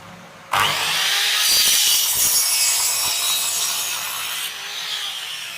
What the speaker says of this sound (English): So now I'm just going to cut them to length.